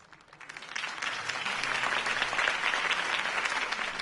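A crowd applauds in the video game Batman: The Telltale Series, the clapping rising quickly from quiet to a dense, steady roar that holds to the end.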